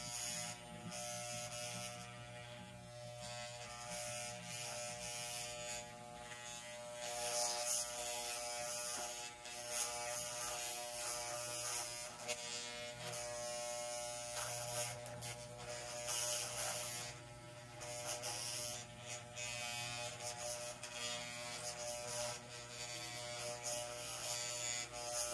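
Electric hair clippers buzz steadily and close up while cutting hair, a continuous mechanical hum lasting about 25 seconds with no talking.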